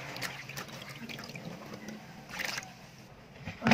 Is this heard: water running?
yes